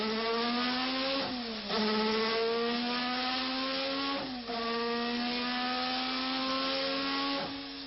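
A Renault turbo Formula 1 engine screams at high revs, rising steadily through the gears with brief dips at each upshift, loud and continuous with no voices over it.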